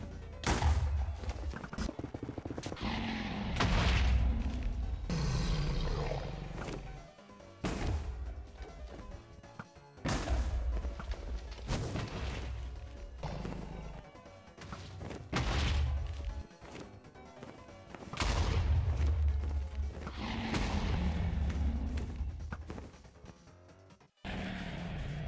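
Repeated heavy blasts from beds exploding during a Minecraft Ender Dragon fight, loud booming bursts recurring every few seconds over continuous dense game noise, no voices.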